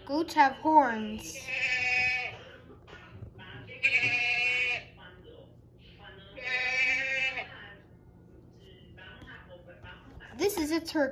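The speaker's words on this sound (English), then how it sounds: "This is a goat." A goat bleats three times in long, wavering, nasal calls spaced about two seconds apart, close and clear, with a few shorter vocal sounds at the start and end.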